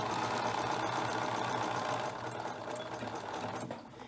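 Sewing machine stitching a reinforcing line along a pocket on ladies' pants, a steady close whirring hum of needle strokes running continuously, slowing slightly near the end, with no talking.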